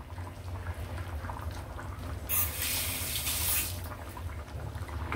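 Liquid is poured into a masala for goat leg curry, a brief splashing gush in the middle over a low background hum, close and moderately loud, fading after about a second.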